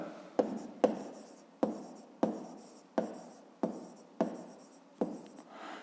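A pen writes a math solution on paper, its tip scratching in about eight quick separate strokes, each starting with a sharp tap and fading. Close and quiet.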